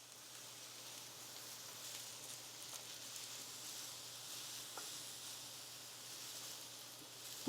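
Onions sizzle softly while grilling in a pan, giving a faint, steady frying hiss throughout, with a sharper clatter at the very end.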